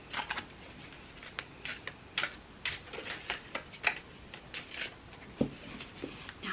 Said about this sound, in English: So I'm just going to shuffle. I like to shuffle roughly.